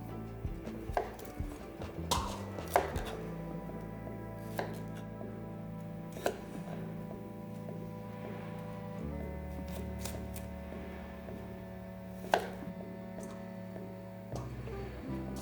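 A knife chops cauliflower into small pieces on a board. Light, irregular taps and thuds sound fairly quiet over a low, steady background hum.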